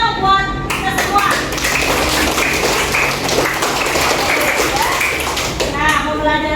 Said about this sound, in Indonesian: Beri tepuk tangan dong buat kita semua.